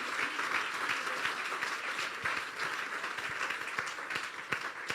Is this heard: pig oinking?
no